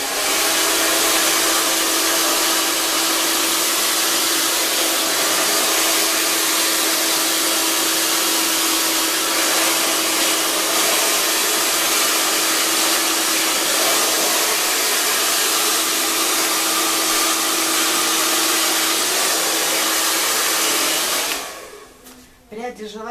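A hair dryer blows loud and steady at close range over long hair being brushed through, with an even rushing hiss, then cuts off right at the end.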